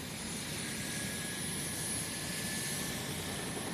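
A steady, loud rescue helicopter rotor and engine drone fills the whole stretch, constant and close, with no voices over it.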